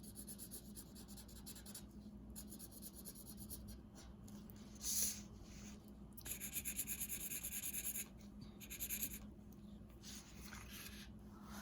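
A nearly dried-out marker is dragged and rubbed across paper in close, continuous scratchy strokes, with a few louder scribbling bursts in the middle and no talking.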